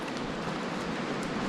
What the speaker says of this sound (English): Heaps of rain.